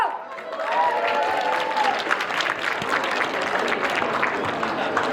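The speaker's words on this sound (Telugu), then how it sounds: "ఒకసారి గట్టిగా చప్పట్లు" Sustained applause from a crowd fills the space, dense and steady throughout, with a voice briefly heard at the start.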